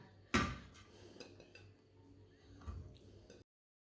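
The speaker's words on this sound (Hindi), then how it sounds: "बैंगन को ना कढ़ाई में डाल लेंगे" Eggplant dropped into a metal wok makes one sharp, close clatter, followed by a few softer scattered clinks and knocks in an otherwise quiet kitchen.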